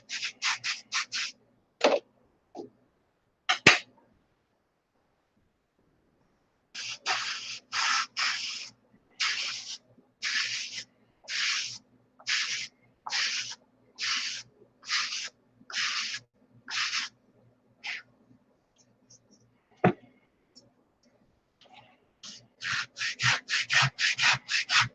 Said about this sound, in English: Hand belt sander.